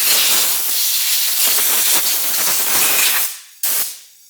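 A loud, close hiss of high-pressure compressed air blasts over the parts of a vintage Craftsman table saw in a workshop, sustained for about three seconds before cutting off, followed by one brief second burst.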